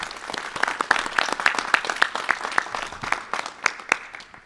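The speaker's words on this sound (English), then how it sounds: "Can we give her a round of applause real quick?" An audience applauds a young woman, a Dreamer honored at a political press conference, with a steady burst of many hands clapping that stays fairly close and even before thinning out toward the end.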